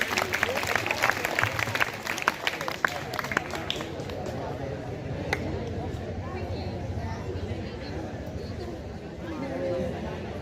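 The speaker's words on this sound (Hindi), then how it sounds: "जोरदार तालियों से अभिनंदन करें" Loud applause from a crowd at a school Gandhi Jayanti function at Krishak Inter College, welcoming a female municipal chairperson to the stage, with dense clapping in the opening seconds settling into a steady hubbub of crowd noise and murmuring.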